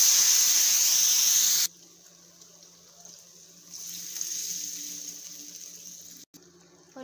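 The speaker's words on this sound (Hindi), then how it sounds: "अब हम इसमें 2 कटोरी उसी कटोरी से पानी डालेंगे।" Water from a bowl poured into golden roasted semolina and gram flour for sooji halwa, a loud hissing sizzle that cuts off abruptly, then quieter bubbling and steaming in the pan.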